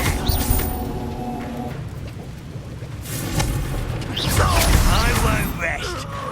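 A Bombarda spell goes off with a booming explosion in Hogwarts Legacy during a spell-heavy duel. Rumbling impacts and crackling debris fill the scene, and short spoken lines come before the blast.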